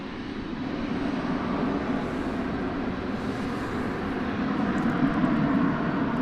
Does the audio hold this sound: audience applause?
no